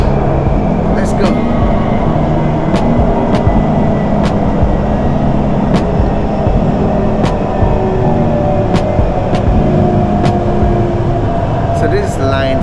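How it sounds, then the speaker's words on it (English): Inside a line 14 metro train in China, a steady hum of traction motors and ventilation rolls under the ride, with regular faint clicks from the rails throughout. "You can get on this train and explore China."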